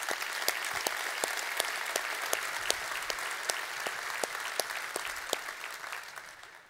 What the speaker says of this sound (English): let's give him a welcoming round of applause